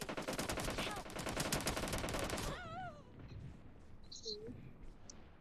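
Rapid bursts of automatic gunfire in the mobile battle royale game PUBG Mobile, a dense loud volley that stops abruptly partway through, leaving quieter game sounds behind.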